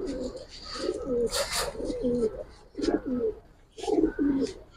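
Pigeons coo at a pigeon loft in Islambagh, Old Dhaka, giving close, throaty, rolling calls in several phrases. Faint voices and background noise sit underneath.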